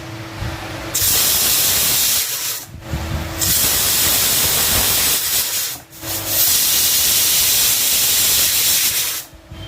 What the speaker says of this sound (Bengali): এবার কুকার বন্ধ করে দিচ্ছি, দিয়ে 4টে সিটি দিয়ে নেব।